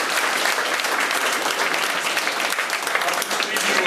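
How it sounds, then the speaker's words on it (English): An audience at a high school music open house breaks into applause, a dense, loud, sustained clatter of many hands clapping without pause. "We'd like to give them a nice round of applause."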